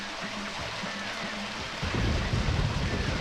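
Steady rain in the video game Deadly Premonition Origins hisses throughout, growing heavier and rumbling louder in the second half, with no voices present.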